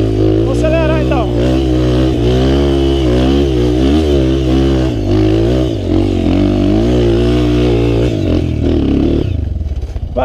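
A motorcycle engine revs hard and steadily, loud and close, as the bike climbs a rutted dirt trail, its pitch rising and falling with the throttle, and the clip ends in a clattering, scraping jolt.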